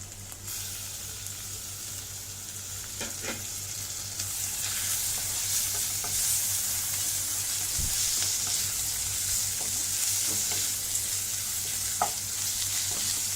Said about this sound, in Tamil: இதில் நான் இப்போ இந்த இஞ்சி பூண்டு பேஸ்ட்டாக சேர்க்குறேன்